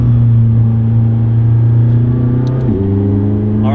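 A McLaren 675LT engine holds a loud, steady drone close by, then shifts pitch sharply near the end as the car accelerates, with a deep rumbling tone throughout.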